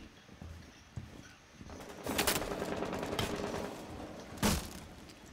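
Gunfire in Rainbow Six Siege on the Chalet map: scattered shots crack through a window amid game noise, with a louder burst near the middle and a sharp single report near the end.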